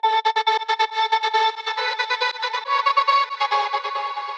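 Serum synth lead patch built from a noise vocal shot, pulsing in rapid choppy trance-gated stutters with a bright buzzy tone, loud and alone, with the notes shifting partway through.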